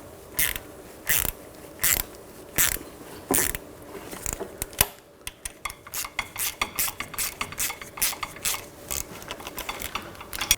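A ratchet clicks in quick repeated bursts up close as ball joint bolts on a BMW X5 are tightened, with separate strokes at first and then a faster, denser run of clicks.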